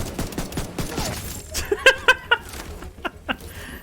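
Gunfire in The Division 2, a video game: a run of loud, sharp shots in quick succession around the middle, then a couple of isolated bursts near the end, over background game noise with faint chuckling.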